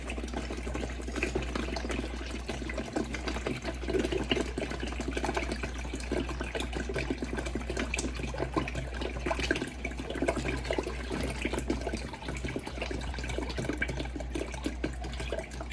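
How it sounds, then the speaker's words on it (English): Room-temperature water poured from bottles into a bin, a steady dense splashing and gurgling stream that runs continuously and evenly at close range with no talking. "I'm going to dump these room temperature water bottles into my bin."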